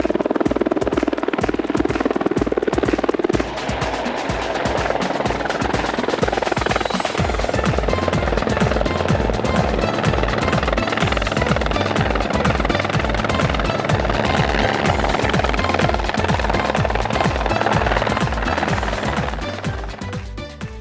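Greenlea rescue helicopter at an open day in Taupo, its rotor thudding loud and close in a rapid continuous beat with a whining turbine, sustained throughout before easing slightly at the very end.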